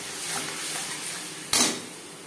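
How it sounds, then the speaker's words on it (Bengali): Ginger, green chili and tomato hiss in a pan after the bay leaf tempering for a vegetarian potato and pointed gourd curry, with a soft sizzle and then a sharp clatter of the spoon stirring against the pan. "ফোড়ন তেজপাতা ভেজে নেওয়ার পর দিয়ে দেব আদা, কাঁচা লঙ্কা ও টমেটো।"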